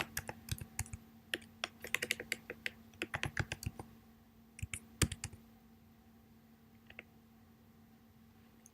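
Computer keyboard typing in bursts of quick clicks, close and fairly quiet, then a pause with a few scattered key presses, no talk.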